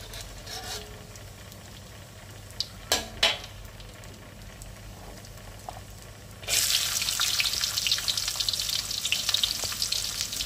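Tempeh stir-fried with shallots and garlic in a pan, with a few utensil knocks and scrapes before a loud, steady sizzle bursts in and continues close up.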